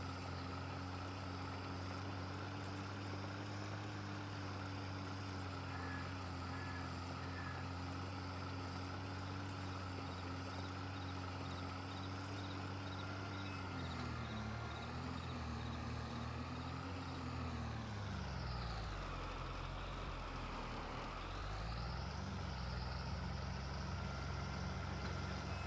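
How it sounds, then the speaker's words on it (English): A farm tractor engine laboring while pulling a plow during fall plowing, a continuous loud droning hum with steady harmonic tones that dip and rise in pitch partway through as the load changes. "my my tractor does not like pulling."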